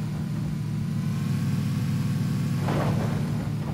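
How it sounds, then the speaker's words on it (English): A car engine rumbles steadily in the PUBG battle royale game, a low continuous drone that rises briefly as if revving, fairly distant and alone. "Is that a car?"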